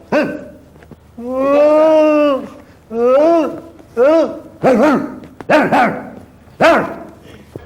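A person imitates a dog yelping as if hit by a stone, standing on one leg in a Tamil TV game segment: a series of loud, wavering howls and yelps, one long cry followed by several shorter ones, with the voice close and dominant.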